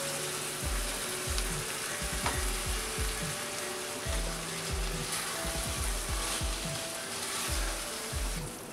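A bottle gourd mixture with grated khoya, for lauki barfi, cooking in a pan, a continuous soft sizzle with frequent rhythmic scrapes and stirs of a spoon against the pan, close up with no voices.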